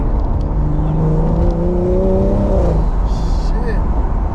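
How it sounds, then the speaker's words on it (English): A turbocharged BMW M340i engine revs with a rising turbo whine over loud road rumble, and a voice talks briefly over the noise. "She goes, and the turbo howls, man."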